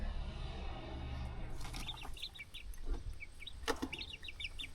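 Bantam chickens cluck in short, soft bursts against a low background rumble, several quick clucks clustering toward the end.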